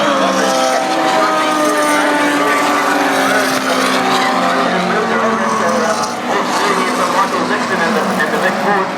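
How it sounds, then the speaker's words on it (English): Ford Mustang race car at a Grand Prix race meeting, a loud continuous engine roar with shifting tones as it drives past, mixed with voices and crowd noise throughout. "So we're looking at the Mustang coming up here."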